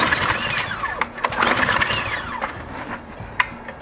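A small engine is started without the choke in a fuel-treatment test: a short sputtering crank that catches into an uneven, rising mechanical whine, then settles, up close.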